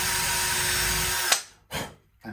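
Power drill boring out the neck screw holes of an Ibanez S520 guitar to 5.5 mm, a steady loud whine lasting over a second before cutting off, followed by two short bursts of handling and wood noise.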